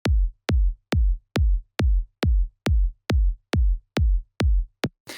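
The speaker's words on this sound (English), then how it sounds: "let me play this kick drum" A kick drum sample struck eleven times in a steady, even rhythm, each hit a punchy low thump with a short decay, loud and close with silence between hits, ending in a faint noisy burst.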